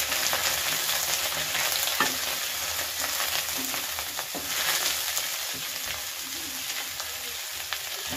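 Grass pea (khesari) greens sizzling in a pan over fried onion, a constant crackling fry with occasional scraping knocks as the greens are stirred, close and steady, no talk.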